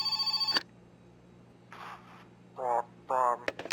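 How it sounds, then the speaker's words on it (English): A telephone in the My Winter Car game rings with a fast metallic bell trill that cuts off abruptly, followed by a speaking voice in short bursts. "Oh, a phone call."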